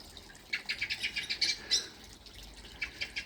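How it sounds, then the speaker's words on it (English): A blackbird outdoors above a garden pond gives a run of quick, high chirping calls in short bursts, fairly faint and a little distant over a soft background hiss. "There's a blackbird up there."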